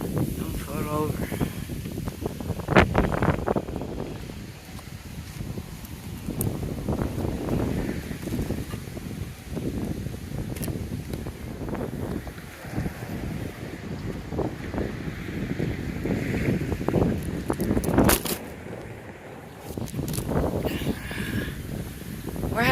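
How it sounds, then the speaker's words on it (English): Strong wind buffets the microphone in a steady roar with gusty surges on a windy outdoor day, while a person talks intermittently over it. "It's very windy."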